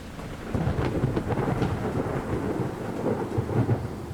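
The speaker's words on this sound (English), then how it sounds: "I was actually happy to see all of this rain." Rain and thunder in a realistic hardcore survival mod of the video game Minecraft: a dense, steady downpour hisses throughout, with low rolling thunder rumbling underneath, loud and close.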